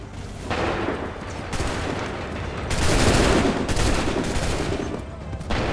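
Musket volleys from massed soldiers in Assassin's Creed III crack out as rough, overlapping bursts of gunfire. The bursts swell into a louder, sustained fusillade in the middle and then thin out.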